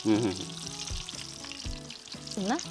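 Chili fritters (mirchi, Davanagere-Kottur style) deep fry in oil with a continuous soft sizzle and bubbling, while voices talk over it.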